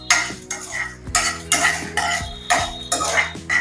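Dried red chillies stirred in a pan, a spatula scraping and clinking against the metal in repeated strokes about every half second, with only a faint sizzle underneath.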